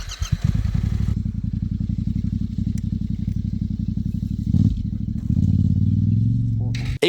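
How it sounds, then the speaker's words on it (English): A Yamaha Tenere adventure motorcycle labours through deep sand, its engine a steady close low throb with a rise in revs near the end, loud and alone apart from some scraping clatter. "trying to manhandle his big Tenere and learn how to ride in the deep sand"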